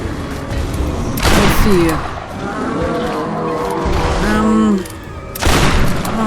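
Gunfire during a boss fight in Tomb Raider (2013): two loud bursts of shots, one early and one near the end, with someone speaking between them over a busy game soundtrack.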